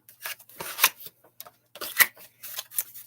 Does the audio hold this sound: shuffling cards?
yes